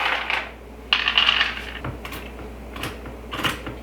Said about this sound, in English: I'm going to get my nuts cut up